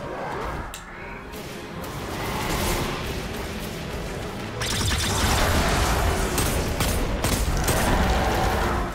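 Gunfire in the video game Destiny 2 while fighting an ogre boss, a rapid, dense volley of shots that grows louder and continues steadily, with a voice faintly underneath.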